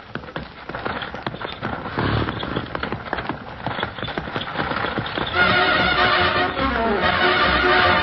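Radio sound effect of horses, several loud neighs and whinnies over brisk clip-clopping hooves, building toward a busier, louder gallop near the end.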